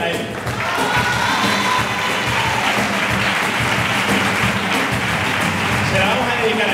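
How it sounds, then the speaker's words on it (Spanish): A large audience at a tangos de Triana performance applauds loudly and continuously, a dense wash of clapping with some cheering mixed in. "pido un fuerte aplauso para él"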